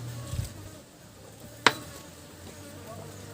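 Flies buzz faintly and steadily around homemade anchovy fish paste (bagoong dilis) being packed into a jar, with a low hum underneath and a couple of sharp clicks.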